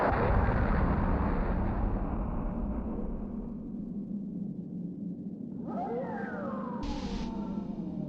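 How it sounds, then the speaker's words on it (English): Cannon fire in the video game Skies of Arcadia Legends rolls as a loud, continuous low rumble of booming blasts, fading slightly midway before a sharper burst of crackling debris near the end. "That sounds like cannon fire."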